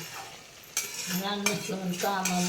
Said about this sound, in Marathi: असा मस्त मसाला परतून घ्यायचा